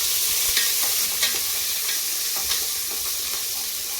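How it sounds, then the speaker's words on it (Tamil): Crushed garlic frying in a pan for goat intestine soup gives a loud continuous sizzle and hiss, with a few soft stirring scrapes, close by and with no voices. "பாருங்க, நல்லா வதக்குது."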